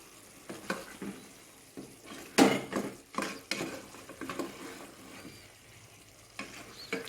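Chicken curry stirred in a pot, irregular scraping and slopping strokes of a spoon with a soft sizzle underneath, a louder clatter near the middle, and quieter pauses between strokes.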